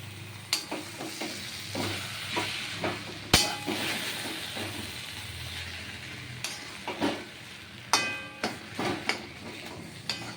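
Cabbage ghonto, a Bengali dish, sizzles steadily in a pan while a spatula stirs it in repeated scraping strokes, with sharper clacks against the metal throughout.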